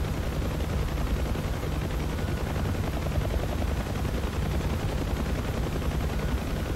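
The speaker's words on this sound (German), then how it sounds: "Ist da noch was am Schießen?" Continuous gunfire during a UH-1H Huey helicopter mission in DCS World, a dense unbroken rattle of rapid shots layered over loud, steady rotor and engine roar throughout.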